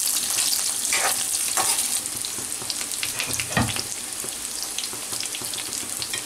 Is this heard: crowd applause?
no